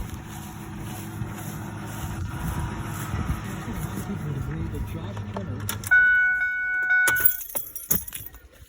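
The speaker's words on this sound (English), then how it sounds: "I have to turn the truck off because he said so." Truck engine idling with a low rumble, then switched off, followed by sharp jangling of the keys and clicks; a voice speaks over the engine beforehand.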